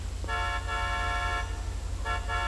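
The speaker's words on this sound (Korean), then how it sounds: "빵빵" A car horn honks in the video game GTA 5, sounding twice, with one long blast and then a shorter pair over a steady low engine hum.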